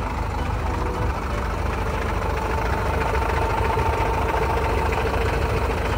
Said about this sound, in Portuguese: desengata pra ligar o caminhão